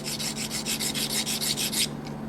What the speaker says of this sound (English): Just going to give it a little bit of a polishing here.